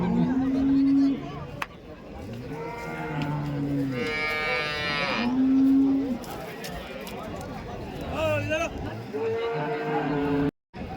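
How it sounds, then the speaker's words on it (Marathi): Several cows moo repeatedly at a large cattle market in Chalisgaon, some close and loud, others farther off, amid crowd chatter and general bustle. "चेळीसगावचा गाय बाजार हा खूप मोठा बाजार आहे"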